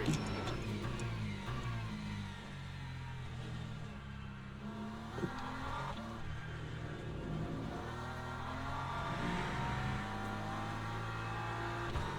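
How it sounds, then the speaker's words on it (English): A race car accelerates out of the pits during a Brazil race, its engine rising and falling in a steady, loud whine with trackside roar for the whole stretch. "Not what I want to see, a car coming out of the pits."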